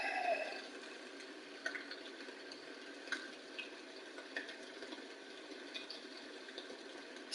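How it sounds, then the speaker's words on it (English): Rain in the fishing game Fishing Planet: a soft, continuous patter with scattered faint drips and ticks, quiet and even throughout. "Still raining."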